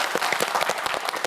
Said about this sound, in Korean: 친구들이 또 바로 응원의 박수를 보내주고 있네요